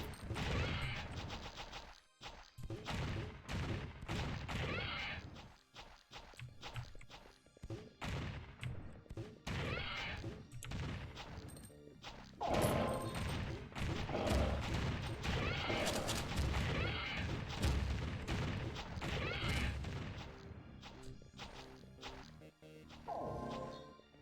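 Grenade gun fire and explosions in Alien Shooter 2, dense bursts of crashing blasts and rapid shots packed closely together, loud and continuous with brief lulls, people talking faintly underneath.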